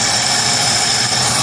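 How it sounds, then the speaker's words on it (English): A 1971 Mercury Comet V8 engine idles on its own, a steady, loud, close-up rumble with an even, unbroken drone. "I wanted it to hold its own idle, so you don't have to sit there and hold your foot on the gas"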